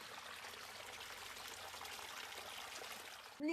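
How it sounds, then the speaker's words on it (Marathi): Steady flowing water from a small stream in the rainy-season Konkan countryside, a continuous soft rushing trickle heard alone at moderate distance, with a brief knock at the very end. "पाण्याचा आवाज बघा."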